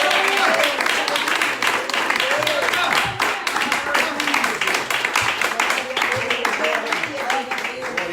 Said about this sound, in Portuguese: aplaudir a Jesus bem forte.